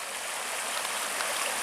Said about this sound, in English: Water's starting to move real good.